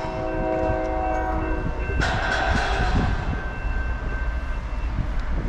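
A long CSX westbound freight train of about 204 cars rumbles steadily past nearby while a sustained horn tone sounds over the rolling noise.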